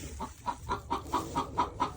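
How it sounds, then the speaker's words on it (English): Hens clucking inside a homestead chicken coop, a steady run of about eight evenly spaced clucks, close and moderately loud, with no voices. "I had to get out of the chicken coop because the girls are making some noise"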